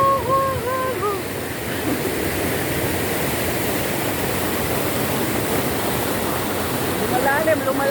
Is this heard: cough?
no